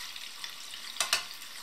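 Cooked blood sausage with onions fries briefly in a pan, a steady close sizzle broken by two quick sharp crackles near the end, with no voices.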